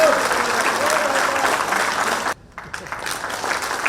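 Loud, dense applause from a crowd at a formal felicitation ceremony of a Jharkhand administrative service association, a sustained wash of clapping that drops off sharply partway through, then a thinner patter of claps resumes.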